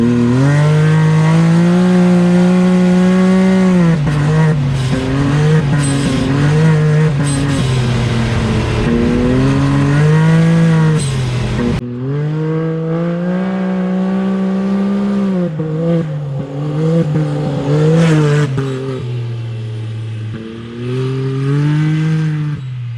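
A powersports vehicle with a cat delete and an electronic dump valve revs and accelerates loudly and close by, its harmonic engine note climbing and falling in long pulls with a brief break midway.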